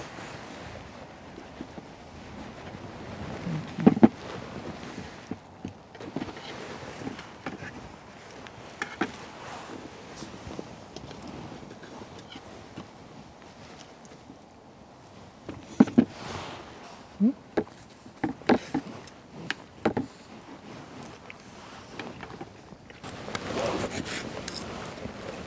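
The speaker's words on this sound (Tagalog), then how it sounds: "Lakas na hangin." Strong wind gusts and buffets against the microphone in an uneven, rushing roar, broken by a few sharp thumps.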